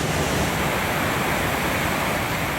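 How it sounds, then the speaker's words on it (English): Continuous roar of the cascading waterfalls at the 9/11 memorial at Ground Zero in New York, a steady broadband rush of falling water, loud and unbroken with no voices. "the moment that I first heard these waterfalls start up, I was actually struck not so much by how they looked, by how they sounded"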